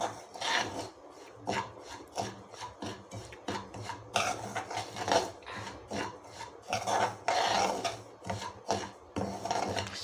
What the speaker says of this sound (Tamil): ரவா உப்புமாவுக்கு நம்ம ரவையை வறுத்துடலாம்